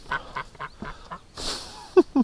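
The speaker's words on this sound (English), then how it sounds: "I really like that duck." Several loud, close quacks from a white-faced laying duck in a backyard coop, coming in short bursts with brief gaps between them.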